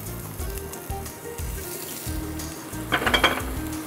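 Chopped onion fries in extra virgin olive oil, giving a soft, continuous sizzle with occasional low knocks, then a brief louder flurry of crackling and pan clatter near the end.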